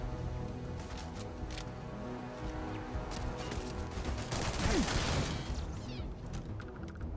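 Turret gunfire in the Starfield game, a dense, continuous fusillade of rapid shots with a swell of louder bursts near the end, steady and alone.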